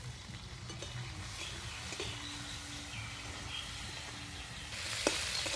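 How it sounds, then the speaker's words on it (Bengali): Peas, onion and mixed vegetables frying in a pan outdoors, giving a steady soft sizzle with faint stirring scrapes throughout, a brief louder clink near the end, and faint birdsong in the background. "মটরশুঁটি, পেঁয়াজ, সবজিগুলো ভাজা ভাজা হয়ে গেছে"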